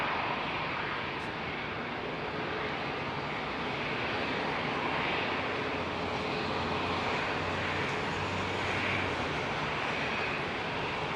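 An SAS Airbus A320neo jet departs Heathrow with a broad, steady engine roar that holds constant and moderately distant throughout.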